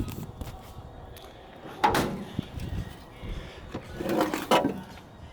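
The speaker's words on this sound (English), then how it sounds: "This door doesn't want to open either." The stuck door of a 1974 Datsun 260Z is forced open in two efforts, with a creaking, scraping thump near 2 seconds and a longer grinding, clunking struggle around 4 to 4.5 seconds, close and fairly loud over quiet outdoor background.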